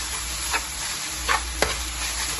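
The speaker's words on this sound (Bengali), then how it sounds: "এই যে মেথি শাক রান্না করা হচ্ছে, এখন ভাজি করা হচ্ছে আর কি" Fenugreek greens fry in a pan with a steady, moderate sizzle, broken by two or three brief scrapes or stirs of a utensil, no voices.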